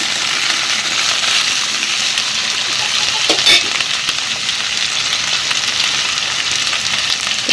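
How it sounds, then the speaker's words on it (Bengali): Potatoes frying in hot oil in a wok, a loud, steady, close sizzle with a brief scrape or clatter partway through, and no one talking. "দিয়ে দিয়েছি আলু। তো আলুটাকে একটু লাল লাল করে ভেজে নিতে হবে।"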